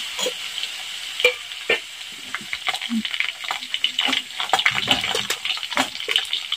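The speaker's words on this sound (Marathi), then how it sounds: "जिरा आणि लसूण छान तेलामध्ये भाजून घ्यायचे" Cumin seeds and crushed garlic roasting in oil over a low gas flame, giving a steady soft sizzle with scattered crackles and spoon-stirring scrapes, close and alone with no talk.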